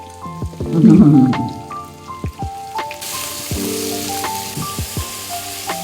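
Onions frying in a pan, a dense crackling sizzle like rain on a surface, with scattered clinks and taps and a brief muffled voice early on.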